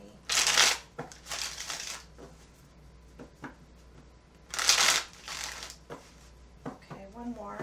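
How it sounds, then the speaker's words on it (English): A deck of cards being shuffled in quick riffling bursts, two pairs of bursts separated by quieter handling, with a voice speaking softly in between. "I do like to shuffle on camera so that you see that I'm not rigging the deck"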